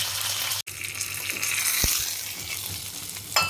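A tempering of dried chilli, garlic and curry leaves, with a little water added, is stirred in a pan, giving a steady hissing sizzle with a brief dropout and a single sharp knock, close and unaccompanied by talk.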